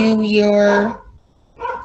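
Dog in the background giving a drawn-out, tonal yelp or whining bark followed by a shorter second call, fairly clear and close, during a podcast recording with no speech over it.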